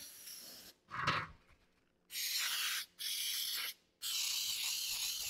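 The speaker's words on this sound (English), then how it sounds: "So we're going to spray the pan with some Baker's Joy." Baker's Joy baking spray hisses from an aerosol can onto a standard 13 by 9 by 2 inch baking pan in three steady, close bursts, after a short rattle of handling.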